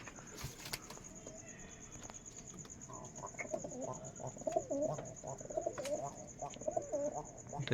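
Rajshahi Giribaz pigeons with long feathered feet coo softly and repeatedly, the low burbling calls rising in the second half over a faint steady background tone.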